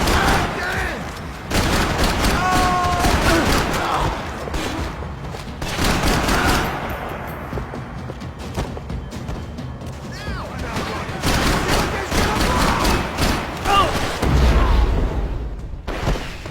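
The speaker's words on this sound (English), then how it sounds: "Gunfire over Hoboken." Bursts of rapid gunfire over Hoboken in the video game Max Payne 3 crackle repeatedly, some close and sharp, others more distant, with a deep boom near the end and a steady rumble underneath.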